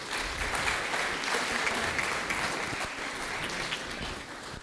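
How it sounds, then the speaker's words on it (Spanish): An audience at an international seminar on the circular economy in Ecuador applauds a speaker being welcomed, a continuous, moderately loud wash of many hands clapping evenly throughout. "Por favor, recibámoslo con un fuerte aplauso."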